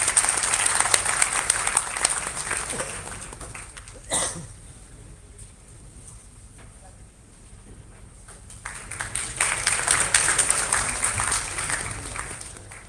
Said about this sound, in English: Please give a very big round of applause.